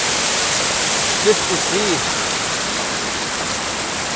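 Fast-flowing river and waterfall at Glenashdale Falls near Whiting Bay on the Isle of Arran, a loud, unbroken roar of rushing water close by, with a voice briefly speaking beneath it.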